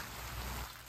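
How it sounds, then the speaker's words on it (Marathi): Heavy winter rain pours down at a farmhouse in Matheran, a dense, even hiss of drops on surfaces, brief and fairly faint, with no talking. "हा पाऊस जोरात आला."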